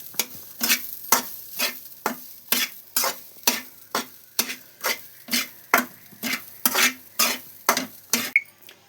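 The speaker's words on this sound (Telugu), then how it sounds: "ఇలా కొద్దిసేపు ఇది కూడా పచ్చి వాసన పోయే వరకు వేయించుకోవాలన్నమాట" Freshly grated coconut is fried and stirred in a pan, a spoon scraping back and forth in an even rhythm of about two strokes per second, loud and close with no voices.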